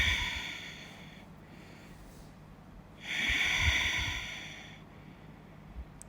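Slow yoga breathing during gentle stretching: a soft, airy inhale, a pause, then a longer, fuller exhale, close and quiet with no talking.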